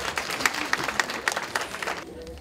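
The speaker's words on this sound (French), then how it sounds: "Vous pouvez vous applaudir." An audience at a Fouta Djallon cultural gala in Canada applauds, a brief spell of moderately loud clapping with several distinct accents before it fades quickly into quiet room noise.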